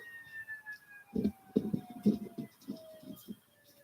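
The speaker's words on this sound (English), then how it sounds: "Cops are here. You guys hear the sirens outside." Wailing sirens sweep up and down in the distance, steady tones gliding across the whole stretch, with faint background noise and no talk.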